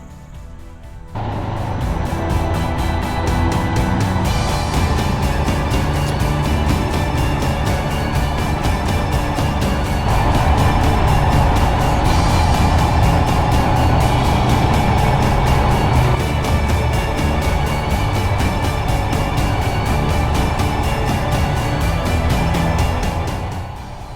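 A Royal Enfield Himalayan 411 motorcycle rides along a road near the Slovenian border, its engine droning loud and steady with rushing wind for over twenty seconds, and no one speaks.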